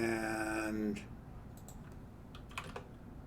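Quick keystrokes on a computer keyboard follow a voice, a short burst of faint, close clicks with brief pauses, typed while building a multi-file C++ project.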